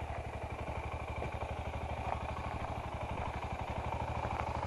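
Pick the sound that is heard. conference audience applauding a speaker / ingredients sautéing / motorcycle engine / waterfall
motorcycle engine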